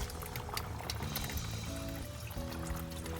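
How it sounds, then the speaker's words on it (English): Water drains out of the drain tube at the base of a GreenStalk vertical garden planter, a steady close trickle and gurgle that runs without a break. "you can actually see it draining out the drain tube right there"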